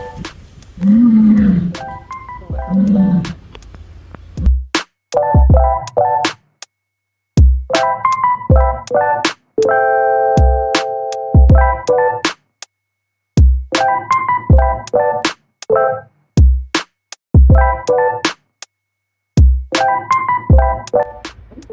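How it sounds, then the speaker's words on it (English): A mule brays repeatedly, loud and close, in long harsh bursts of wheezing, honking cries separated by short pauses, with no talking. "That's Millie roaring."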